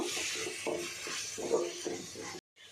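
Ground masala paste frying in a pan with beans for shavige masala bath, a soft continuous sizzle with repeated scraping and stirring strokes, ending abruptly in silence.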